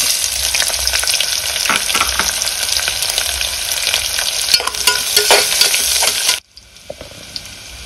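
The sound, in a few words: thinly sliced onions frying with cashews in a pressure cooker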